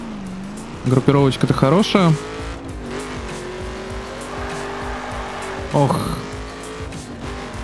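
A car drives in The Crew racing game, its engine droning steadily while tires squeal briefly on corners; someone talks over the engine in two short bursts.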